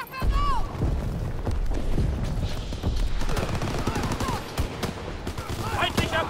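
Gunfire in Call of Duty: WWII multiplayer, with rapid machine-gun bursts and scattered shots around an enemy tank push, under game voice callouts and radio chatter.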